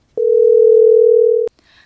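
A steady, loud telephone dial tone sounds as a call is placed, holding one unbroken pitch for about a second and a half before cutting off abruptly, followed by faint noise.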